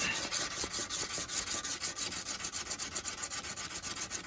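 A hand file rasps steadily across a steel knife edge in quick, even back-and-forth strokes, close and fairly quiet, with no voices.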